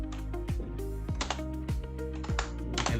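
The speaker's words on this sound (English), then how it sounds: "Let me type hello world" Keys clacking on a computer keyboard in a quick irregular run of sharp clicks, close and fairly loud, with no voices.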